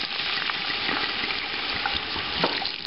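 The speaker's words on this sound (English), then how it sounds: "So let's deglaze with some horrible cooking wine." A hot pan with brown fond is deglazed with cooking wine for beef stew, a continuous close, loud sizzle and bubbling hiss with a few scraping knocks.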